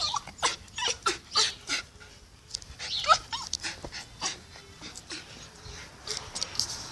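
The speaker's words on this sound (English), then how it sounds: "Oh, the dogs." Several dogs whimper, yip and pant close by in a lively cluster of short, uneven bursts of high whining and breathy panting, with no clear talk.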